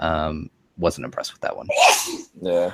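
A single sharp sneeze bursts out in the middle of casual conversation, loud and close, with voices talking on either side of it.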